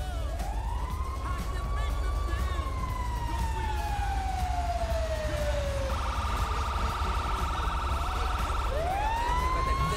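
Fire truck siren in the video game GTA V, a loud wailing sweep that falls, then switches to a rapid yelp before rising again, over a steady engine rumble.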